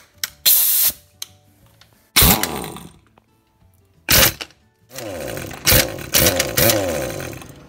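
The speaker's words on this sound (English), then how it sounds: "This is a much larger torque wrench. We've never had this thing fail. It just breaks all these bolts loose." A large pneumatic torque wrench on a 2005–2012 Honda Pilot 3.5L engine rattles in several loud, close bursts of hammering, each a second or less, separated by short quiet gaps.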